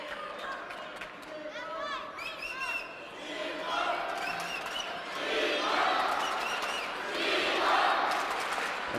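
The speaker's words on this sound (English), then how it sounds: "Very rarely do we hear someone out cheering the Chinese fans in the crowd." Arena crowd at a table tennis match between Ovtcharov and Fan Zhendong, a busy mix of shouts, whistles and chants that swells into loud, sustained cheering, with voices talking throughout.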